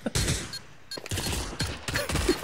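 Gunshots in the Pavlov VR shooter ring out as several quick, sharp bursts of close, loud fire across a couple of seconds.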